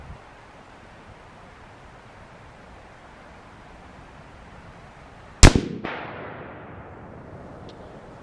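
A single sharp report from a Ruger American rifle in 6.5 Creedmoor, fired while boresighting, cracks out after several seconds of quiet outdoor hiss and then trails off in a short echoing decay.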